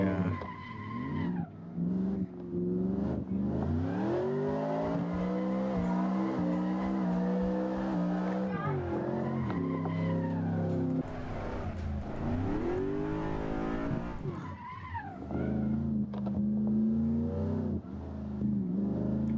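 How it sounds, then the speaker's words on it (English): Loud F4 race car with a 454 engine lapping Virginia International Raceway, its engine wailing up and down through repeated shifts with tire squeal through the corners, close and continuous for the whole stretch. "the car just sounds great"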